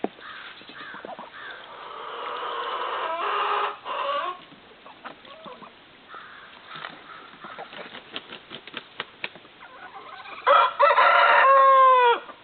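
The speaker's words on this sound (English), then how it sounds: "Hear that rooster?" A farm rooster, one of the chickens raised from an incubator, crows outdoors from a distance. Several rough, broken calls come through a faint background, with a louder, clearer crow near the end.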